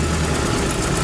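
Car engine idling with vibration in a car being checked for a shaking fault, a steady rough low rumble with noisy hiss over it, close and continuous.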